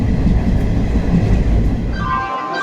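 A train pulling into Bhubaneswar station: a loud, steady rumble of rolling carriages that dies away near the end as a thin brake squeal rings out.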